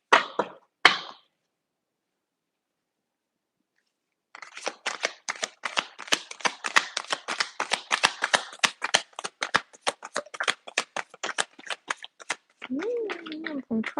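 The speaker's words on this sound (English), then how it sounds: "Some cards falling on the floor" Dream Keepers tarot cards spill onto the floor in a rapid flurry of light papery slaps and ticks lasting several seconds, after a couple of brief taps, with a voice speaking briefly at the end.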